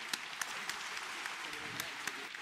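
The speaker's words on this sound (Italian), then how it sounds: "li salutiamo tutti con un corale applauso." An audience at a university inauguration ceremony applauds award-winning students, a steady patter of many hands clapping at moderate distance for a couple of seconds.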